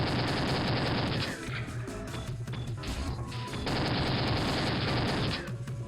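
Rapid double pistol fire in a shooting game crackles in loud, dense volleys, breaking into a scattered mid-section of shots and clatter before another sustained burst that stops abruptly.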